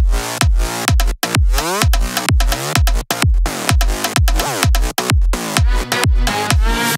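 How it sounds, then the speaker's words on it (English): Gritty, distorted synth bass layer from an electronic music drop, pulsing in a steady rhythmic pattern of punchy repeated notes with pitch sweeps, loud and upfront with no voices. "So the next thing that we have on top is the gritty bass."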